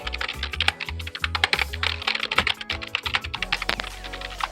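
Dense, steady typing on an NYK Nemesis K-01 mechanical keyboard after more than a year of use, with rapid clacky keystrokes close up and no talking.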